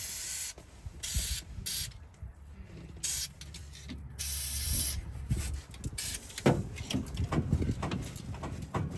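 Fluid Film lubricant sprayed from an aerosol can onto a stiff part of a rusty old Corvair, several short hissing bursts close by with some clanking and shuffling between them.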